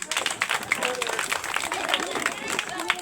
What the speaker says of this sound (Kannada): ಎಲ್ಲರೂ ಚಪ್ಪಾಳೆ ಹೊಡ್ರಿ